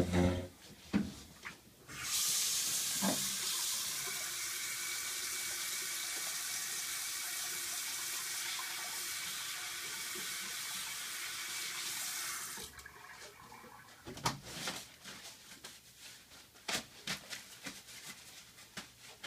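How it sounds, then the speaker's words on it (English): Tap water runs steadily into a sink while hands are washed, a continuous close splashing stream lasting several seconds, with brief knocks and handling noises before and after. "So now I'm going to perform my hand hygiene."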